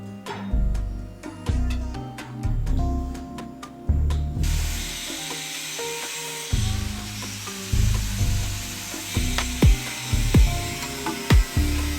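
A cutoff wheel grinds through metal in loud, uneven bursts of harsh rasping and whining, with sharp clanks and pauses between cuts, close and without speech.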